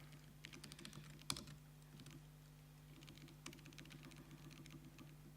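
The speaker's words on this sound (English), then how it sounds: "Have you ever seen so much typing in a presentation?" Rapid, steady typing on a computer keyboard during a live coding presentation at a conference, close and dense clatter with a few harder key strikes, over a low room hum and no voices.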